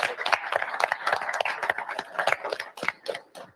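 Audience applause and clapping at a live trucking company driver meeting, welcoming new drivers: dense, steady claps from a crowd of people, moderately close, fading toward the end.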